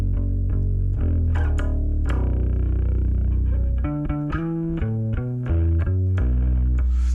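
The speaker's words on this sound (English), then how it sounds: "So get a bit of distortion and bite come through." A bass guitar through a BOSS GT-1000 distortion patch plays a melodic line, notes growling and biting with a thick, buzzing edge, no voices.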